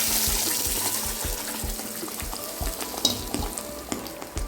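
Ground coriander-mint chutney hits a hot mustard seed tempering with a loud, steady sizzling hiss and crackle, while the spoon taps and clinks against the pan.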